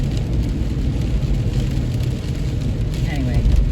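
A car engine runs rough and uneven while driving, a loud continuous low rumble with mid-range rattle, after sitting unused for a long stretch.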